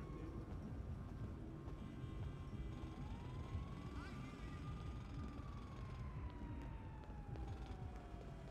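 A faint, far-off emergency siren slowly rises and falls over a constant low rumble of city background noise.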